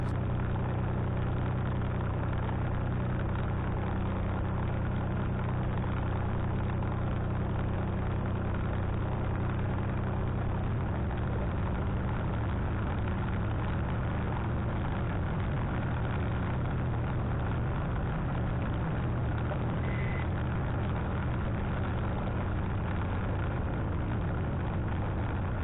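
A small aircraft engine idles steadily while warming up on a snowy January day, a continuous low rumble with no voices, slightly rougher and fuller in the second half.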